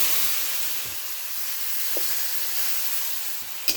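Spices with cumin powder frying as a little water is added, a strong steady hiss-like sizzle with a few faint scrapes and a sharp clink at the end.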